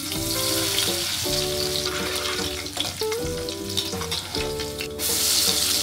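Garlic frying in hot oil in a pan gives a loud, steady sizzle that runs throughout, with a tonal, melodic sound playing alongside it.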